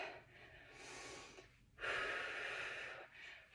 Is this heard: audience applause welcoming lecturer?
no